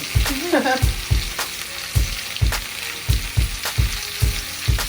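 Squash sautés and browns in a hot pan, sizzling continuously while a spatula scrapes and taps the pan in a quick, regular rhythm, close and fairly loud.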